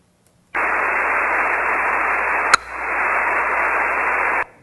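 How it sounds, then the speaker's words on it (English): An insulin pump sensor's wireless transmission is picked up on a ham radio receiver, heard as steady radio static hiss broken midway by one sharp brief chirp, after which the hiss resumes and continues until it stops abruptly. "That little chirp is a 9 millisecond transmission from my sensor."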